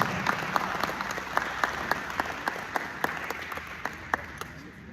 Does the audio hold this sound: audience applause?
yes